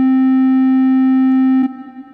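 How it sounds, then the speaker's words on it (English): A squared, sine-like synth tone holds a single steady, loud pitch for about a second and a half, then breaks into a softer, wavering continuation. No talking, and the rising arpeggio is not evident. "It's like it's a squared sine sound"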